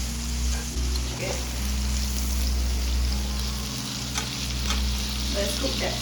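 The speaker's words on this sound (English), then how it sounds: "I'll let it sear the other side and baste it for a little bit" Steak searing and being basted in a pan makes a continuous close sizzle with crackling spatters and occasional spoon scrapes, over a low steady hum, with no talk.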